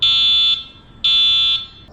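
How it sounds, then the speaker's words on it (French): Two loud, identical electronic beeps from a 60V 2400W SR3 electric scooter sound close by, each a steady high tone lasting about half a second, separated by a short pause. "Il y a eu 2 bip bip."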